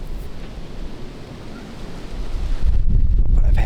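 Wind buffets a microphone outdoors during a deer hunt, a steady low rush that grows stronger and gustier toward the end, with no other clear sounds.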